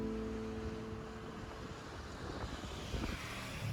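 A motorcycle passes on a busy street in Quito, Ecuador, its engine noise blending into steady traffic rumble and swelling briefly toward the end.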